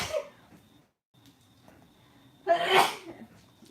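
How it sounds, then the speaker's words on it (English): A single loud sneeze bursts out close by after a stretch of quiet background noise. "Sorry for sneezing on you."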